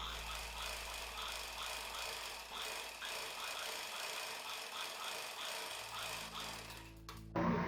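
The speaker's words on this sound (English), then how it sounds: "We'll put one more stitching along this side." Sewing machine stitching lace onto a dhoti dress, a quiet continuous mechanical whir with a fast even needle rhythm, close and steady, ending in a brief clunk.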